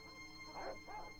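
A video-game dog gives two quick yipping barks at middle distance, the first louder, with no voices over them.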